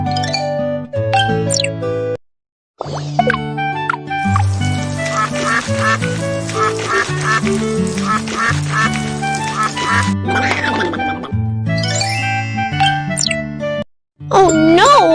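A cartoon duck quacks several times amid bright jingling, tinkling cartoon music, with short gaps of silence; the quacks sit near and loud within the busy score.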